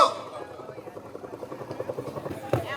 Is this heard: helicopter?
yes